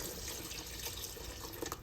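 Steady rush of water pouring continuously into a cooking pot, a full, close splashing flow for a couple of seconds.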